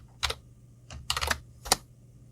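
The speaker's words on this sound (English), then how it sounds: "If I type /** over my pose question method header and then press enter" Keyboard typing in Eclipse while writing Java code: a few quick clusters of keystrokes with a distinct final key press, close and fairly quiet.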